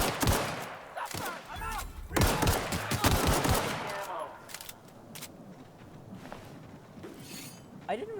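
Rapid bursts of gunfire in the video game Outer Worlds, shots cracking in quick volleys during the first few seconds, then thinning to scattered, fainter reports under a low game ambience, with someone talking at moments.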